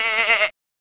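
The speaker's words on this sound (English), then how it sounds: "Sheep." A single sheep bleat from the children's computer game JumpStart Kindergarten, a short wavering cartoon-like baa lasting about half a second, clear and close, then silence.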